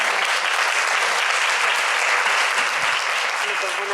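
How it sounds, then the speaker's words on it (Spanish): Loud audience applause at the closing event of a library reading club, a dense, sustained roar of clapping from a full room, even and unbroken throughout. "Vamos a darle un fuerte aplauso."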